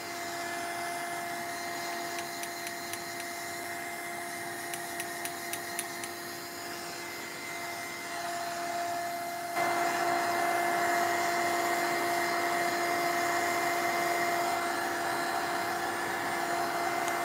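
A heat tool blows steadily while drying an altered art pumpkin, a constant whirring hiss that carries on without a break and grows a little louder partway through, with a few faint ticks early on.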